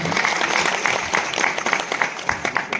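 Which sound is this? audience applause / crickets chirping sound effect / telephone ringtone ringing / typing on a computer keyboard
audience applause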